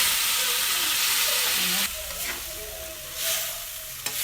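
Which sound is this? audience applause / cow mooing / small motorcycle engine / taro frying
taro frying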